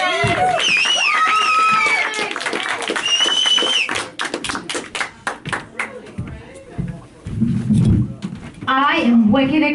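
A live comedy-show audience claps and cheers to welcome comedian Shae, with dense applause and whoops building in the middle, then fading as the comedian starts talking.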